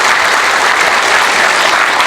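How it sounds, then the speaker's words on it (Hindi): Loud, dense applause from an audience in a school hall, a steady wash of many hands clapping with no pauses or voices. "मुझे लगता है बाबा साहब के लिए हम सब की तरफ से एक नमन के लिए तालियां होनी चाहिए, जोरदार तालियां होनी चाहिए"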